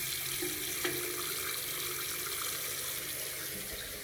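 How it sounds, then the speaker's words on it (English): Water runs steadily from a basin through a drain clogged with sand, a constant close hiss and rush of flowing water with no breaks. "Might try and get the basin flowing some water through here just to try and wash a bit of sand away"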